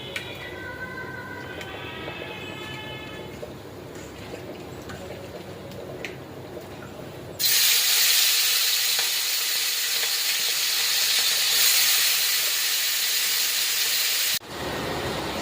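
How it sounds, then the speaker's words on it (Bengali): Small prawns frying in a pan for a prawn malai curry, a loud steady sizzle and hiss that starts suddenly partway through and keeps going, then briefly drops before continuing. "মালাইকারি করতে প্রথমে চিংড়ি মাছগুলো একটু হালকা করে ভেজে নেব।"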